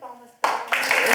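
An audience applauds a writer at an interview event. Clapping bursts in suddenly right after a voice finishes speaking and continues as a full, steady wash.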